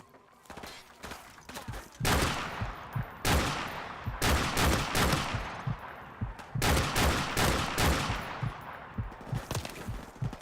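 Video game gunfire from Call of Duty 4: Modern Warfare Remastered comes in sustained bursts of rapid automatic shots, loud and close, separated by brief quieter gaps.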